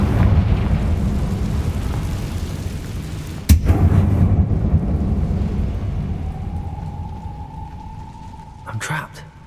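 A Confringo explosion spell in the video game Hogwarts Legacy gives a deep rumbling blast with a sharp crack partway through, then the roar fades into a low ringing tone before a brief burst near the end.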